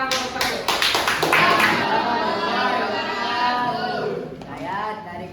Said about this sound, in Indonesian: Oke, kita beri tepuk tangan untuk satu.